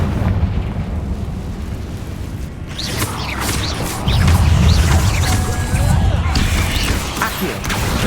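Confringo fire spell explosions in the Hogwarts Legacy video game, loud rumbling blasts and crashing bursts amid continuous combat noise, with a voice heard beneath.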